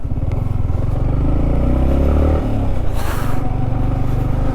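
A motorcycle rolls into the Pelling Skywalk parking area in West Sikkim, engine steady and close with a low throbbing note, a brief scraping rattle near the end.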